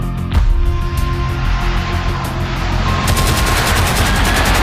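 Machine gun fire from Dutch aircraft during an air attack on the city of Malang, sounding as rapid repeated bursts of shots layered over a dense roar, continuous and loud throughout.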